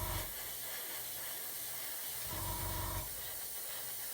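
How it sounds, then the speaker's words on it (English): Airbrush hissing steadily as it sprays paint onto a 1/35 scale Lanchester WW1 armoured car model, a faint continuous spray with slight swells, no voices. "I don't know if you can even see a change there as I'm spraying it on"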